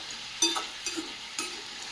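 Sweet potato slices frying in ghee for a sweet Mahashivratri dish give a soft sizzle, with three short scraping stirs of a spatula in the pan.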